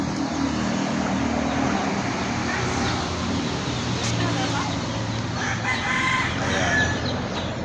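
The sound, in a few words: chickens clucking and crowing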